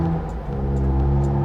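The engine of an Audi RS4 Avant runs with a close, steady, low mechanical rumble for a short moment, without any noticeable rise in revs.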